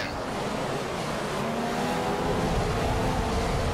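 Race car engines roar in a racing video game, a dense continuous high-revving drone holding steady and loud throughout with no pauses.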